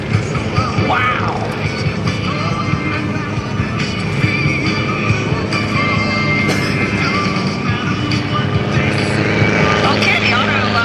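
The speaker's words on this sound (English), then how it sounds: "Demonstration of a helicopter short line work." A helicopter flies short line rescue demonstration work with rescue swimmers at an airshow, its steady loud rotor and engine drone filling the air continuously, with crowd noise underneath.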